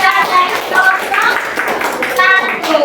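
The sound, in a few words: classroom applause for Jessica's group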